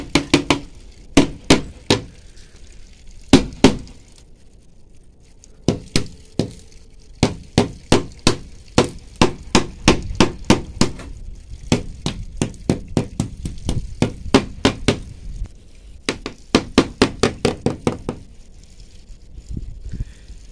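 Small hammer striking glass inside a machine cab, dozens of sharp close knocks in irregular bursts and quick runs with brief pauses between them.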